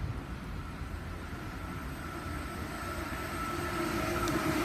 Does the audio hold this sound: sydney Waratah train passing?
yes